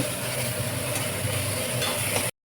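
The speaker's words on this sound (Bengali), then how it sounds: "মশলায় যতক্ষণ না তেল ছেড়ে আসছে ততক্ষণ নাড়াচাড়া দিয়ে" Spice paste frying in oil in a pan, stirred with a steady sizzle and soft scraping strokes, fairly quiet and close, ending abruptly.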